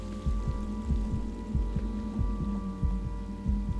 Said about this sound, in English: Why is the heartbeat not stopping?